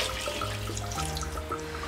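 Water streams steadily into a cooker for mushroom biryani, a continuous splashing pour with a faint hum beneath, no voices.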